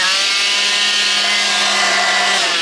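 A Makita cordless vacuum runs on an aftermarket 7-volt battery, a steady loud motor whine with airy hiss, close by and without interruption.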